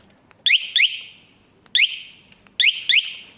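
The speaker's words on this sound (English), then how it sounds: "This has an alarm on it." A Kawasaki ER5 motorcycle alarm goes off close by, repeating a shrill electronic two-chirp warble three times in a steady rhythm, with no one speaking.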